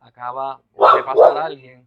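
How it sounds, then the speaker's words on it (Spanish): Pet female dogs bark at a passer-by during a home Bible study broadcast, a few short barks and yips close by, mixed with a person speaking. "Le pido mil excusas si escuchan a mis perras ladrando"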